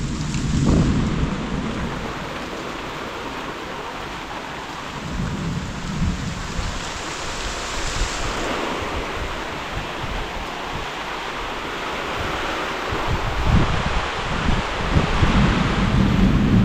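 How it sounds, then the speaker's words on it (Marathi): Heavy rain falls in the Konkan region, a loud and steady downpour joined by low rolling thunder that continues throughout, with no one speaking. "आज पाऊस आमच्याकडे आला, जोरदार आला."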